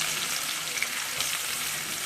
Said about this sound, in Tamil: வெங்காயம் வதங்கிச்சு.